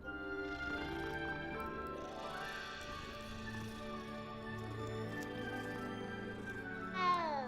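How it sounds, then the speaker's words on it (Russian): A cat in the video game Hogwarts Legacy gives a short, rising meow near the end, heard over steady orchestral game music playing quietly throughout. "я не могу не погладить еще одну кошку"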